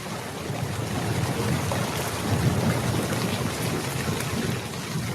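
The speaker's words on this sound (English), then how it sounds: "You adding rain sound effects? He's trying. It's a thunderstorm." Thunderstorm rain sound effect, a dense continuous hiss of heavy rainfall with a low rumbling undertone, steady and loud across the whole stretch, with no voices over it.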